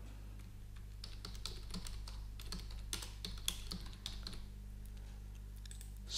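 Steady keyboard typing on a computer, entering a file name for a mechanical drawing in BricsCAD CAD software, with quick irregular key clicks running throughout at moderate volume.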